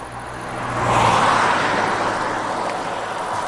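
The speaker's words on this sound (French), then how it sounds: "Bon, il y a une voiture, j'essaie de faire du stop." A single car passes along a quiet rural road in Lozère, the high French department, its engine and tyre noise swelling to a peak near the middle and then lingering as it moves off, with no talk.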